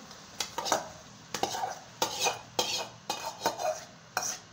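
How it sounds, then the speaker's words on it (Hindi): A spoon stirs and scrapes boiled potatoes in a metal pot while making samosa filling, in distinct bursts of clinking and scraping separated by brief pauses, close and fairly loud. "मिक्स करते हैं।"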